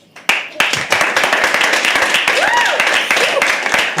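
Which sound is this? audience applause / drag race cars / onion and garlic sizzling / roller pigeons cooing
audience applause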